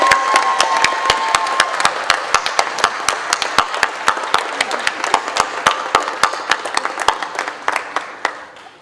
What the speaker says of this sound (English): one last round of applause for these guys.